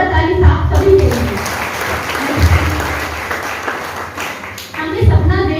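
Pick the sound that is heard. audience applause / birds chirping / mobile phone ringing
audience applause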